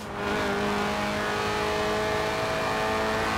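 Lotus Elise, a 1990s two-seat mid-engined rear-wheel-drive roadster, in Forza Horizon 4: engine droning steadily at high revs, loud and close, holding a sustained tone throughout with no talk.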